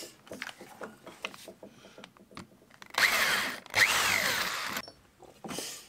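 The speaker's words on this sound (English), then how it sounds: "Just drill a bunch of holes." Power drill boring holes into a wooden mini sledgehammer handle, several short whirring bursts and then two louder sustained drilling runs cutting through the wood, close up, with no talk.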